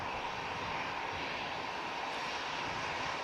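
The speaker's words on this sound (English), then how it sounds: "Also have another EasyJet taxiing over." An EasyJet airliner taxis at Manchester Airport, its engines giving a loud, steady, broadband roar that holds evenly throughout without a break or any voices.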